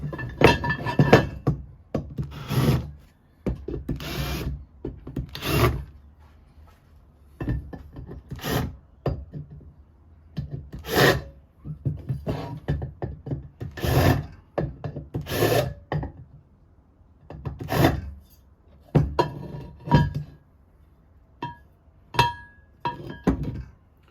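Repeated sharp metallic scraping and clinking bursts as bolt holes in metal parts for an impact power hoe are tidied with a countersink, close up, with short gaps between each burst.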